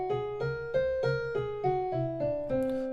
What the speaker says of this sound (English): So that's a whole tone scale.